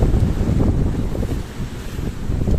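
A steady roar of surf and wind, dense low rumbling of large waves washing nearby with constant wind buffeting the microphone.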